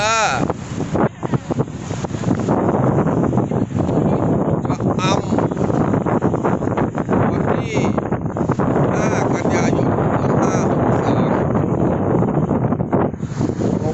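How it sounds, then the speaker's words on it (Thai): Strong sea wind blows at a beach in Cha-am, Thailand, roaring steadily into the microphone for the whole stretch. Muffled voices sit beneath the constant gusting buffet. "แรงมาก ลมตึงเลย แต่ลมมันไม่สดชื่น่ลมมันเหนียวเหนียว ลมทะเลนะ"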